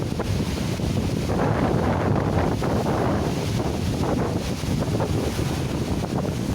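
Strong wind buffets the microphone over the steady wash of sea waves, a continuous roaring noise with no voices.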